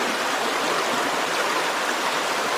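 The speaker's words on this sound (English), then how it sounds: "Gravity pulls the water through the filter, fills up my jug." Water streams steadily through a gravity water filter into a jug at a snowy campsite, a continuous close hissing rush with no pauses and no voices.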